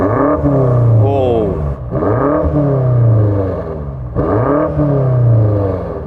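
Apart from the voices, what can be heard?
BMW M5 Competition engine revving while stationary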